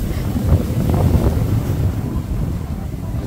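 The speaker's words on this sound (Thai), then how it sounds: "ถ้าเกิดเราเงียบๆนะจะได้ยินเสียงทะเลเสียงคลื่นนะ" Wind and sea waves at a seaside shellfish farm near the coast. A steady, loud rushing roar of wind buffeting the microphone runs throughout, with the low wash of surf beneath it and no talk.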